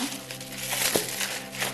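Brief crinkling and crackling of plastic being handled close by, a few soft rustles in quick succession.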